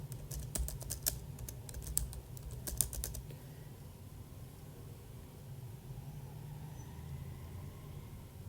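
Fingers type rapidly on a computer keyboard while an article is written for a blog: a quick burst of clicking keystrokes for about three seconds, then only a faint steady room hum.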